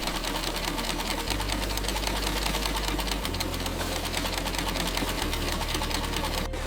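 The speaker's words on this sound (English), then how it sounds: "Automated sewing machines assemble each clothing piece." Automated sewing machines running in a clothing factory, a dense continuous mechanical rattle and hum with a low drone that shifts pitch every couple of seconds, loud and steady with no speech.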